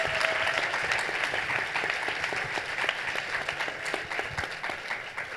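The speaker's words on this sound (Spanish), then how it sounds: "Aplausos, por favor, para Karina, Bárbara y Olga." A conference crowd at a women's leadership summit claps in a sustained, even burst of applause, many hands at a steady loud level that thins slightly toward the end, with a faint voice underneath.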